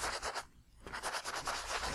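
Sanding block rubbed over embossed paper, producing close, steady scratchy strokes in a quick back-and-forth rhythm with a brief pause midway, no talking.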